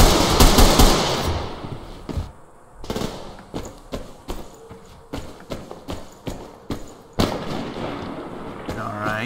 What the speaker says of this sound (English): A pistol.